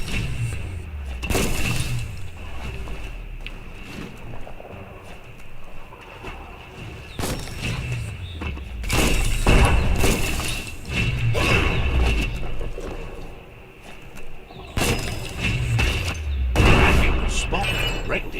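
An enemy bomb lobber in the video game Biomutant is destroyed amid repeated crashing, shattering impacts and booms arriving in bursts every few seconds, with speech mixed in over the game sound.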